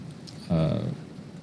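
Steady hiss of heavy rain falling outdoors runs through the whole stretch, with a brief voiced sound breaking in near the middle.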